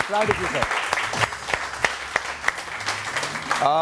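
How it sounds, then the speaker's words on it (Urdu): A studio audience on a Pakistani morning television show claps for General Raheel Sharif, a series of distinct, fairly regular claps that pop out beneath and between voices speaking. "تو جنرل راحیل شریف کے لیے بہت ساری تالیاں"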